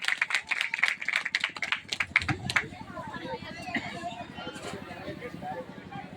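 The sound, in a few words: audience applause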